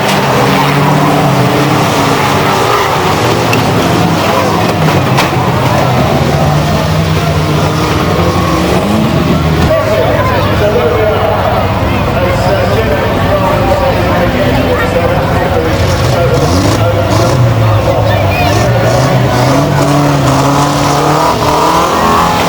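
Racing cars pull away at the restart of a stadium race at Arlington Stadium, their engines droning and revving together at a steady loud level for the whole stretch, under continuous commentary.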